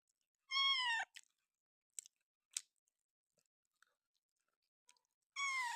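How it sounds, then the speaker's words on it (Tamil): A cat meows loudly and close at the start and end, with short chewing and crunching clicks between, as it eats fried snacks such as vada, bonda and bajji. "பூனையிலேயே இவன் ஒருத்தந்தான் வடை போண்டா பஜ்ஜி எது வேணும்னு சாப்பிடுவார்"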